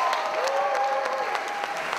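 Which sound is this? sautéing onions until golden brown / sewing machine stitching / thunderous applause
thunderous applause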